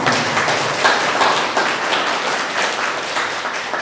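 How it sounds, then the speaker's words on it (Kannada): An audience at a university training feedback session claps in a sustained, fairly loud round of applause, dense and even throughout with no talk over it. "ನಿಮ್ಮೆಲ್ಲರ ಪ್ರೀತಿಯ ಚಪ್ಪಾಳೆ ಮತ್ತೊಮ್ಮೆ ಕೊಡಬೇಕಂತ ನಾನು ಭಾವಿಸ್ತೇನೆ"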